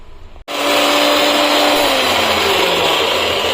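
A loud, steady mechanical whirring of a mixer grinder motor running at high speed, starting abruptly after a brief quiet moment and continuing without pause.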